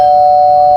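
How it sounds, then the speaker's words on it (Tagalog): A doorbell gives a single clear, loud electronic tone held steadily for under a second, with nothing else heard. "May nag-doorbell?"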